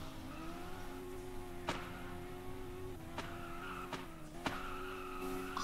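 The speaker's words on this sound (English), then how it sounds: "Whoa, I'm drifting" Engine whine and tire squeals from a car drifting in the video game Prodigy Drift, a sustained steady engine tone broken by several short sharp skid bursts, moderately loud with no talking.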